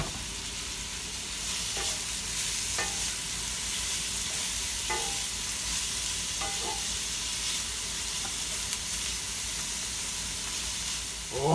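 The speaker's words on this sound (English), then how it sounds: "Try to get some of the browning to absorb into these veggies" Chopped vegetables sizzle and fry in a pot with sausage drippings for jambalaya, a steady close hiss broken by a few stirring scrapes.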